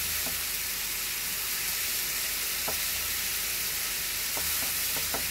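Green chillies (mirchi) fry in a pan with a steady, dense sizzle throughout, and a few faint clicks of stirring pop up near the end.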